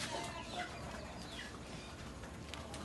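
A brooding hen sitting on her nest in a cage makes soft, low clucks, faint and partly buried in a constant rushing background noise.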